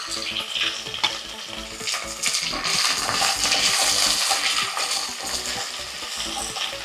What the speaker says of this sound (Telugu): ఇప్పుడు ఆనియన్స్ ఇందులోకి వేసుకుందాం.